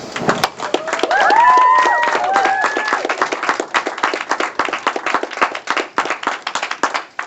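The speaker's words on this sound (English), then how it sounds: "So first, let's have a nice round of applause." Audience applause at a university national letter of intent signing, brisk scattered clapping with a brief cheer or whistle early on, steady and fairly close over the whole stretch.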